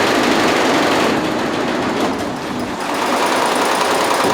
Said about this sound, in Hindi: अब हम चला देते हैं मशीन को। ये देखिए चल रही मशीन।